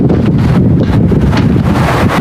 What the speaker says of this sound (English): Pretty windy day, as you can probably tell here through the headphones.